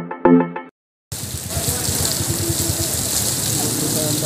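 Steady rain patters and splashes close by, a constant wet hiss with a brief voice at the start before a short silence.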